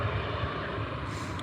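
An EasyJet airliner arriving at Newcastle airport gives a steady, loud jet engine roar with no break or talk.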